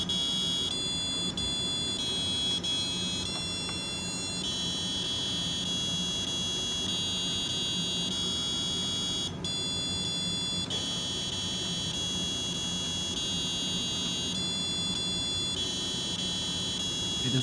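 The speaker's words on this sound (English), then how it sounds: "he want us to show when the alarm is triggered" An alarm buzzer on an embedded lab device sounds continuously, a loud, shrill electronic tone that pulses in repeated on-off segments of about two seconds, with no talk over it.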